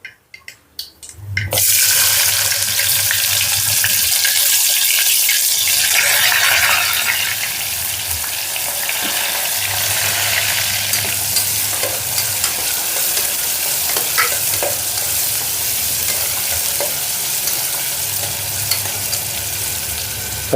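Chopped onions hiss and sizzle loudly in a hot pan for a brinjal and moong dal curry, with a sudden burst of frying as they go in and intermittent scraping stirs continuing throughout, no voices.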